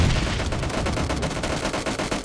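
Rapid bursts of video game gunfire crackle continuously in a busy team shootout, dense repeated shots with no gaps, loud and close throughout.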